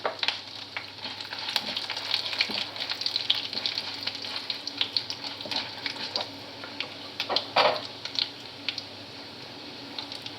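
Three dried red chillies drop into hot oil in a frying pan for bitter gourd thokku, giving a steady close sizzle broken by sharp pops and crackles.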